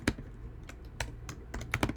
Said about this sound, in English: then you're going to start typing,